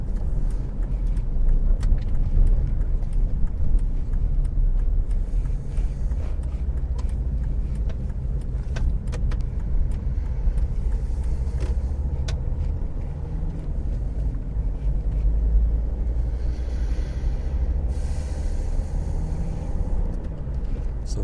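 A car cruising along the A2 road toward Canterbury, nearing a 40 zone, with a steady loud low engine and road rumble and wind buffeting throughout, no talk.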